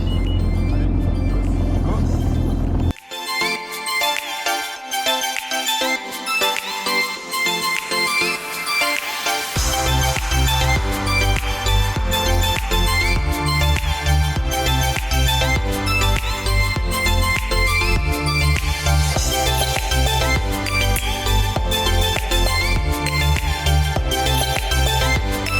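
Two jet skis, a Kawasaki STX 15F and an Ultra LX 160, idle and warm up nearby, a loud, steady engine drone with a brief drop near the start, then continuous rumbling throughout.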